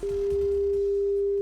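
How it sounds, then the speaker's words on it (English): A pure 400 hertz test tone sounds steadily and alone for about a second and a half, an unwavering clean hum at even loudness. "A low-frequency noise of around 400 hertz sounds like this."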